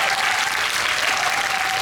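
Audience applause at a film talk event, loud dense clapping from a full crowd that stays even and sustained from start to finish with no voices over it.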